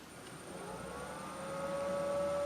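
A 2x72 belt grinder with a contact wheel attachment runs at slow speed on a Mitsubishi D700 inverter drive, giving a faint, steady motor whine with thin tonal hums that rise slightly in pitch as it spins up, with no talking.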